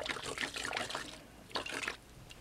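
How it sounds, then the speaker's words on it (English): A paint brush is swished in water for washing, two bursts of faint, close splashing and trickling with a quiet pause between them. "wash your brush."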